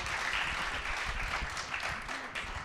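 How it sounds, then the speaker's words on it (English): Applause from an audience at a seminary faculty panel, a steady, muffled wash of clapping heard from a distance, fairly faint, with no talk over it. "Let's give them a round of applause."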